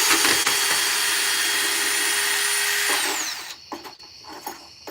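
A power drill whirs steadily at high speed during chainsaw and Dremel carving of a wooden acorn, a loud continuous whine that winds down after about three seconds, followed by a few scattered knocks and handling sounds.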